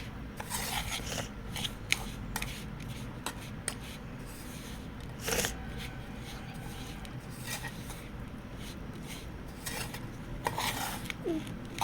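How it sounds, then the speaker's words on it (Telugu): Egg and refined oil are mixed in a bowl for a cake, making a continuous close scraping, rasping stir with occasional sharper knocks, with some talk in the background. "ఎగ్ ఆయిల్ బాగా మిక్స్ అయ్యే వరకు కలపండి."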